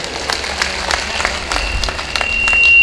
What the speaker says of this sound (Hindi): मैं चाहता हूं ये सदन एक बार तरुण फाउंडेशन और तरुण राठी जी को बधाई देने के लिए जोरदार तालियों से।